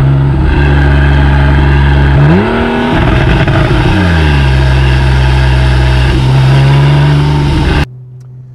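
A Porsche 911 GTS engine drones loudly from inside the car while driving, revving up and dropping back through gear changes, a deep steady growl that cuts off abruptly near the end.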